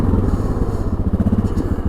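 A 2002 Yamaha Grizzly 660 ATV engine running on a test drive, a steady, throbbing low rumble with fast pulsing beats, close and loud throughout.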